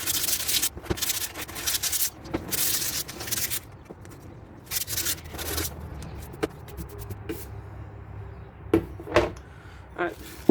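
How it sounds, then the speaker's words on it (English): Sandpaper rubbing on a mirror's backing board in repeated rough scraping strokes, loud and close, easing into lighter, intermittent scuffs, with some talk alongside. "Get some sandpaper."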